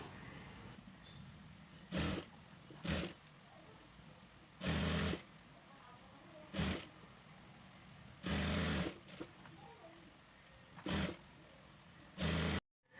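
A sewing machine stitches the sleeves of an abaya in seven short bursts of rapid whirring, each a second or two long, separated by quiet pauses in a calm indoor room.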